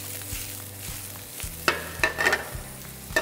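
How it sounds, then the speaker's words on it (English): Broccolini tossed into a hot pan with crushed chilies for orecchiette with sausage, giving a steady sizzle with scattered stirring scrapes and a few sharper crackling bursts, close by and without talk. "I'm gonna add the broccolini in right now."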